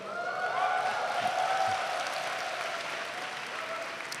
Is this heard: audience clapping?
yes